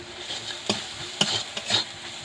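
Turmeric and chili powder masala frying in hot oil gives a soft, continuous sizzle, broken by several scraping stir strokes of a spoon in the pan.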